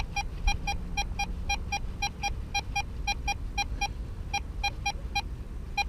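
Maclean MCE940 entry-level metal detector beeping over a coin: a steady, rapid train of short, evenly spaced electronic bleeps repeating for several seconds over faint background rumble, with no talking.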